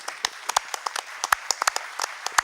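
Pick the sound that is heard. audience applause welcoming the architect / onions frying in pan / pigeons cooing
audience applause welcoming the architect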